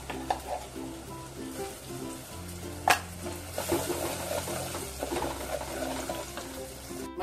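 Spice masala fries in oil in a pan for a Maharashtrian cashew curry, giving a close, continuous sizzle with soft stirring scrapes and one brief sharper clatter.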